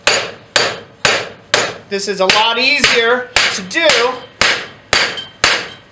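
Hammer blows on a hot railroad bolt shaping anvil horns over a vise, struck in a steady ringing rhythm about twice a second, close and loud, with someone talking over the middle strikes.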